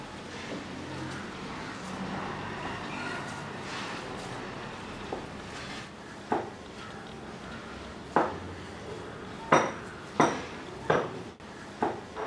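Aloo paratha potato filling mixed by hand in a bowl, soft scraping with a series of sharp clinks of utensil against dish toward the end, close and fairly quiet, no speech.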